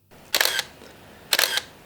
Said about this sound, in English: I actually prefer the shutter sound of the 5D.